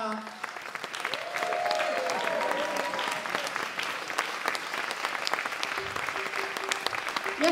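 An audience claps after a musical theatre performance of Notre-Dame de Paris, a dense, sustained wash of applause filling the hall throughout, with faint voices mixed in.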